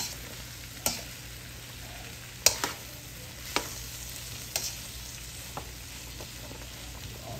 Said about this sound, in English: We just want to get the vegetables so they're soft and sauteed real good.